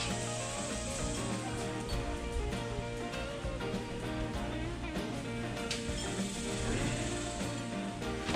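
A ratchet loosens skid plate bolts underneath a Kubota Sidekick 850 utility vehicle, giving a continuous, close mechanical clicking and grinding texture against dense, steady background noise.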